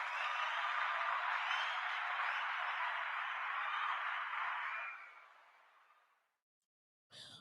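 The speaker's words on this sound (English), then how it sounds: "Let's give it up. Let's clap it up." An audience claps and applauds at the close of a livestreamed show, a dense steady wash of many hands that fades out after about five seconds into silence, followed by a brief noise at the very end.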